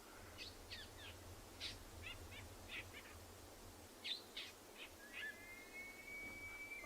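A fork-tailed drongo calls in the bush of Ngala Private Game Reserve during an afternoon safari, mimicking other birds with scattered chirps, short whistled bursts and a long rising whistle, moderately faint over a steady low rumble.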